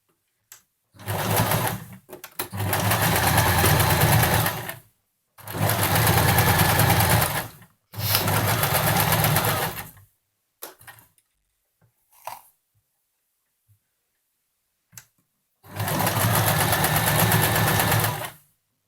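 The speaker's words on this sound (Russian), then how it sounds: "уменьшаем натяжение нити и ставим строчку побольше." A sewing machine stitches fabric for a baby blanket envelope, running in four loud, steady bursts of several seconds each, with quiet pauses and faint handling noises between runs.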